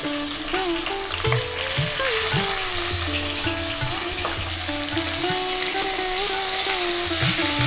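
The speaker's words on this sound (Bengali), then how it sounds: "বাদবাকি মাছগুলো এইভাবে ভেজে নেব" Pomfret fish pieces frying in hot oil give a steady, close sizzle with crackling bursts throughout, and low knocks of a spatula or pan appear intermittently.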